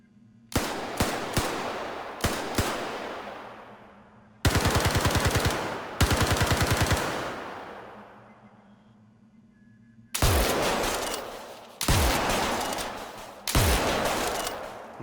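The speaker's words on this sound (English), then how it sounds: "Here is an example of a few weapons using some of these recordings." Several weapons in Star Citizen fire in turn, with loud, sharp shots and rapid automatic bursts separated by echoing decays and short pauses.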